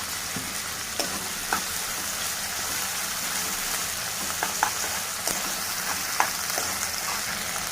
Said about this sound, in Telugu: ఇప్పుడు అల్లం వెల్లుల్లి పేస్ట్ వేసాము ఇవి బాగా కలుపుకోవాలి